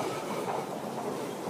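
A metro train rumbles through an underground station in a steady, continuous roar with a faint clickety-clack of wheels, fairly distant and without speech.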